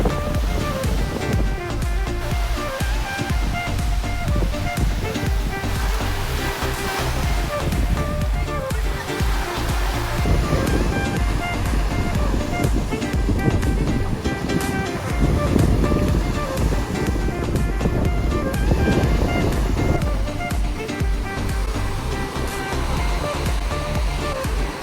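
Ocean surf rolls in steadily at a beach in Carvoeiro on Portugal's Algarve coast, a loud continuous wash of breaking waves with wind buffeting the microphone throughout.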